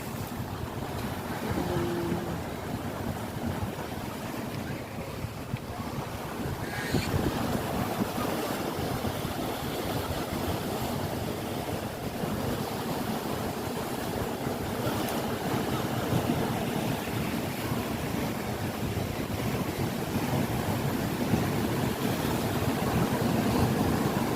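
Big surf pounds a Hong Kong beach in a continuous, loud roar of crashing waves mixed with buffeting wind noise on the microphone, with no voices.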